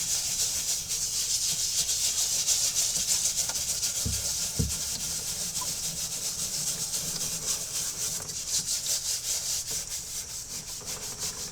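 A soft bristle brush scrubs soapy lather on a gray wool Nike Foamposite Pro shoe, a continuous close rubbing hiss with steady back-and-forth strokes and a couple of knocks, no talk.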